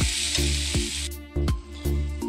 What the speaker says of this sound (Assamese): তাৰপিছত আকৌ এনেদৰে লৰাই দিম।